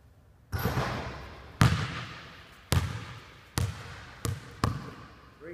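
A basketball strikes the rim and bounces repeatedly in a gym: six sharp, separate thuds spaced about a second apart, each trailing off with a short ringing decay, with no voices.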